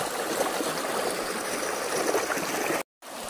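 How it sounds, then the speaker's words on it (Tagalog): Water rushes steadily over an unnamed waterfall, a dense continuous roar close by that cuts out abruptly for a split second near the end before resuming. "Dito po tayo sa falls na walang pangalan eh."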